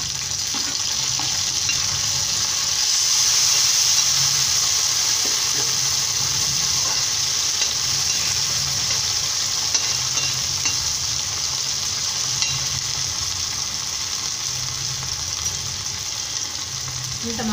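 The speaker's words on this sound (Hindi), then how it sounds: "अब हम इसमें टमाटर डाल देंगे।" Chopped tomatoes tipped into browned onions in a pan for restaurant-style aloo gobi, frying with a steady close sizzle and stirring scrapes throughout, no voices.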